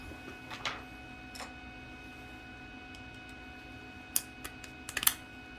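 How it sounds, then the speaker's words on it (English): A few sparse, sharp metallic clicks and ticks from a wrench working a nozzle out of the hot end of an Anycubic Vyper 3D printer, close and fairly quiet over a low background hum. "So we'll go ahead and pull the nozzle out."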